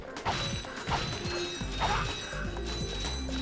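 Metallic whacks and clanks of a wrench melee attack in the Ratchet and Clank video game, several quick hits in a loose rhythm over mechanical game sounds at moderate volume.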